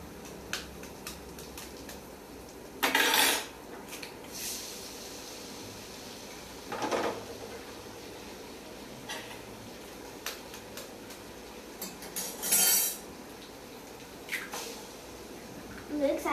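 Two eggs cracked against a bowl and poured in, heard as three short, sharp crunchy bursts spaced several seconds apart over a quiet kitchen background.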